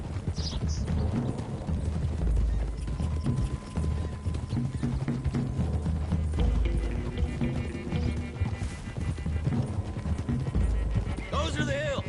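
Horses galloping in Red Dead Redemption 2, a steady clip-clop of hooves running continuously under a dense wash of game noise and ambience, with occasional neighing and mechanical creaks throughout.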